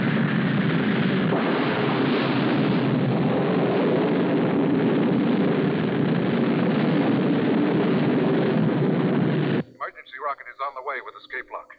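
Rocket launching after a countdown in a space-station construction drama, a loud, steady, dense roar holding for about ten seconds before cutting off abruptly as voices take over.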